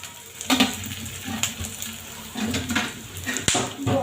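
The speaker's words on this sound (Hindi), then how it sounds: "यहाँ पर हम राई तो नहीं डालेंगे, हल्का सा जीरा बस डालेंगे इसमें" Cumin seeds sizzle in hot oil in a home kitchen pan, a steady crackling hiss near and moderately loud, with a few sharp clinks and stirring bumps.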